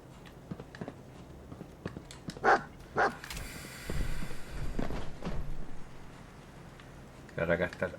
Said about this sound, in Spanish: Claro, acá está el perro culiao.